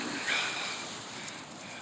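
Ocean waves wash onto a California beach strewn with glass, heard as a continuous broad rushing hiss with some wind, moderately faint and with no one talking.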